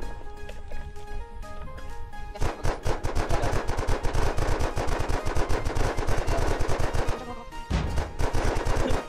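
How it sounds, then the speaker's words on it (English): Rapid automatic gunfire in the video game Unturned as a window is shot out, loud dense bursts running almost continuously with a brief pause near the end. "I'm gonna shoot the window"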